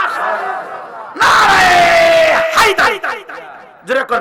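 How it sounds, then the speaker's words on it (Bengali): A large crowd at a religious gathering roars a loud, massed takbir chant of Allahu Akbar in response to a leader's call, voices surging together in long bursts. "চিল্লা কর আল্লাহু আকবার, বলে নারায়ে তাকবীর, নারায়ে রিসালাত, নারায়ে হায়দার, জোরে কর মারহাবা"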